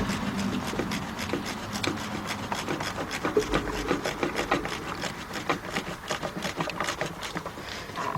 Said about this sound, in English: Put our socket on it. And we're going to tighten that one up.